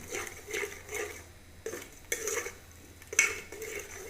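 A utensil stirs a potato and chana dal mixture in a pot, giving repeated scraping and clinking strokes in an uneven rhythm. A few sharper metallic knocks stand out, close up, with no talking.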